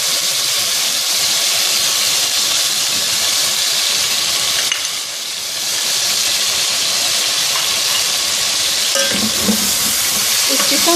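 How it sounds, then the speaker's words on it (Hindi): Chicken with chilli and tomato fries in a pot until golden, a loud, dense, steady sizzle and hiss with a brief dip midway and faint stirring, no voices. "इस चिकन को हम इसमें थोड़ा सा गोल्डन फ्राई करेंगे।"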